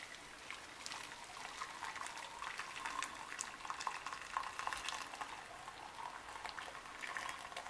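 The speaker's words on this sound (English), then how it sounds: "Cover this up and boil for approximately 5 to 10 minutes only." Beetroot simmers in a covered pot on the stove, a soft, steady bubbling and fizzing hiss with faint rattling that continues evenly throughout, no voices.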